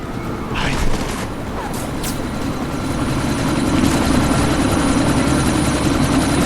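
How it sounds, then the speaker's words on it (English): Rotor wash and engine roar from a helicopter readying to lift off in the video game Deus Ex: Mankind Divided, swelling louder over time, with a few sharp bangs early on. "That chopper's about to take off!"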